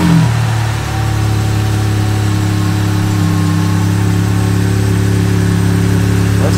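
A turbocharged Jeep Wrangler JLU Rubicon engine running loudly right after startup, with new injectors and fluids, settling into a steady, close, droning idle with a strong low hum and no voices.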